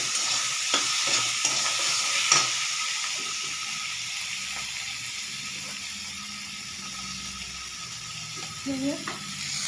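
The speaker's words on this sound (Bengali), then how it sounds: "আর এদিকে আমি মশলাটা কষতে থাকলাম" Spice masala for Govindobhog rice khichuri sautéed in a pan, giving a steady sizzle with intermittent scraping stirs and a few clinks from the spatula.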